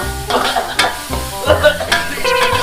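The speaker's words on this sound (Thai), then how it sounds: "เราผัดพริกจนผัดไปเรื่อยๆนะฮะ" Chopped bird's eye chillies stir-fried in a pan for spicy duck neck stir-fry, with steady sizzling and repeated scraping strokes of a spatula, fairly loud and close, no talking.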